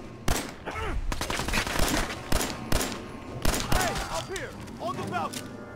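Rapid bursts of gunfire in the video game Fallout 4, loud and close, with repeated sharp shots layered over game music and other effects.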